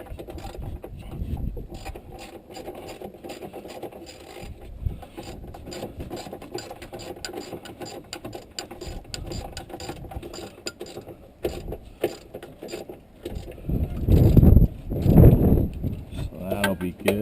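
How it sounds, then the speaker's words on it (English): A ratchet tightens long bolts on the fuel lift pump of a Cat 259D compact track loader, with steady close clicking and mechanical rattling that grows louder and heavier near the end. "Get this one tightened down."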